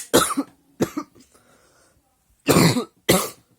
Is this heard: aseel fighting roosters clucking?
no